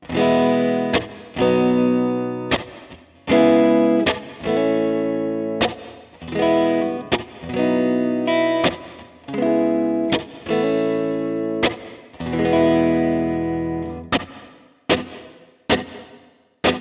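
Distorted guitar chords ring out in a repeating pattern through the GFI Specular Tempus reverb plugin, each one trailing into a reverb tail before the next strike.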